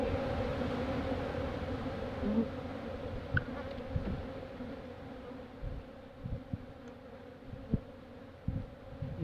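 Honeybees buzz steadily around opened hives during a winter inspection, a low, continuous hum with a few closer individual bees passing, and occasional soft knocks and thuds from handling the hive boxes, with no talking.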